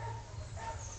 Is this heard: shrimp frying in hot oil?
no